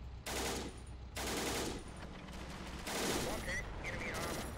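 Gunfire in a tank battle video game: bursts of rapid automatic fire and heavy shots come in loud sustained volleys, with pauses between, over a constant low rumble of engines and battle noise.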